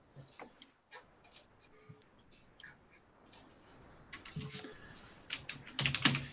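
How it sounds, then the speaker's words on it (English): Typing on a computer keyboard during a planning board meeting, light irregular key clicks close by, with a quicker cluster of taps near the end and quiet room tone between. "You can't see me typing it"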